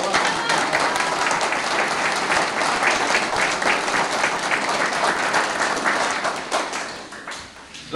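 Loud, sustained audience applause honoring the women of Cajamarca at a gathering in Cajabamba, dense clapping from a large crowd that fades near the end.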